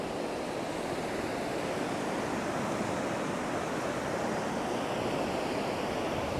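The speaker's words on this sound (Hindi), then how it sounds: "समंदर की लहरों की आवाज़ें" Sea waves on a Moroccan beach wash in as a steady, dense roar of surf, continuous and fairly loud, with no voices over it.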